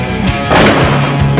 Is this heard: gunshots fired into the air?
yes